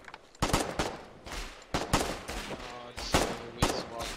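Gunfire rings out in a Foxhole urban skirmish: several sharp, loud rifle cracks and short bursts come in uneven clusters at close range, with some combat noise between them.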